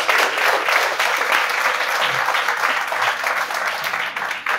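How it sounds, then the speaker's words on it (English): An audience at an entrepreneurship storytelling event breaks into loud, sustained applause for the featured guests, thick clapping from a crowd all the way through. "A round of applause for these folks."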